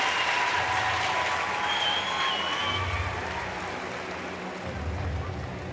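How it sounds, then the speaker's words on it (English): A crowd at a Paralympic powerlifting final in Paris roars and cheers in a loud, sustained wash, easing slightly toward the end, with a commentator's voice faintly underneath. "Huge noise from the crowd."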